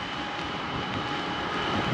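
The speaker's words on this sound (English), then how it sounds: "but the engines are rolling" Engines of a Disney Cruise Line ship, still tied up at Greenock, give a steady low drone with a constant hum and no break for two seconds.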